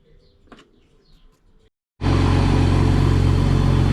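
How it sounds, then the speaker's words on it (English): A BMW E46 engine starts after a quiet pause and settles into a steady, loud idle with a constant low rumble and hiss, running alone without talk. "okay, so we got the car on."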